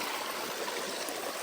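Steady rushing water of a stream at a hiking trail water crossing, a continuous broadband wash close to the listener with no voices.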